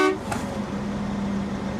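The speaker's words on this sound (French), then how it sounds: "actionner mon klaxon, en vérifier s'il fonctionne" A truck horn blares briefly at the start during a tractor-trailer mechanical inspection, followed by a steady low engine idle droning underneath.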